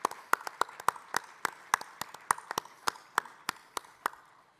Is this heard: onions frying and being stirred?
no